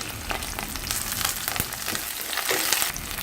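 Curry leaves crackling in hot sesame oil tempering for raw jackfruit sambar, a dense, close sizzle with sharp pops throughout, no voices.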